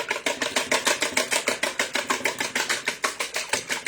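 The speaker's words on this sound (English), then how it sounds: "Then just come and whisk." Eggs being whisked in a bowl for a ground beef breakfast casserole, a steady fast rhythm of close, crisp strokes repeating about five times per second with no talking.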